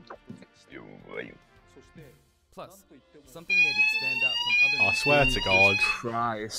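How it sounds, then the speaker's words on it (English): An indoor fire alarm cuts in partway through, a loud, steady, high-pitched electronic tone that keeps sounding continuously under excited conversation from several people. "That's the fire alarm."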